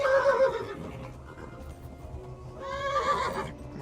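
A horse whinnies loudly in Kingdom Come: Deliverance, a bright neigh at the start and another toward the end, over a low rumble of hooves and ambient game noise.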